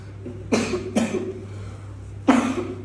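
Child with a chronic cough coughing indoors: two quick harsh coughs close together, a pause, then another cough, over a steady low background hum.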